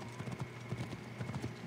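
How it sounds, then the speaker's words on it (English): A horse's hooves clip-clop steadily on hard ground in Assassin's Creed Origins, an even trotting rhythm of paired hoof strikes heard continuously and moderately quiet beneath a low ambient background. "Hopefully I can ride on my horse."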